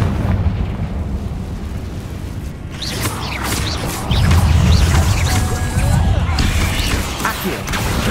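Rumbling blasts and crackling debris fill a Hogwarts Legacy spell fight as the Confringo blasting spell explodes, dense and continuous with overlapping impacts and a voice speaking over the clamor.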